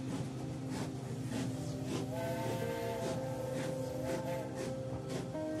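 A steam train whistle sounds as the train pulls out of Ghum station. It is a loud, sustained, harmonic blast that holds steady, with rhythmic puffing bursts underneath.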